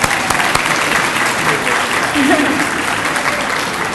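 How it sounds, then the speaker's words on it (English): An audience at a Phi Theta Kappa honor society induction ceremony claps in a dense, loud, sustained round of applause filling the room, with a voice faintly heard underneath. "So let's give ourselves another round of applause."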